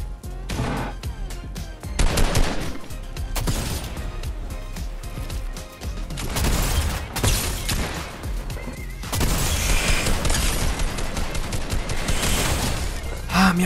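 Bursts of rapid video game gunfire in an arena shooter, repeated volleys and single loud shots cracking close and loud, with brief gaps between bursts.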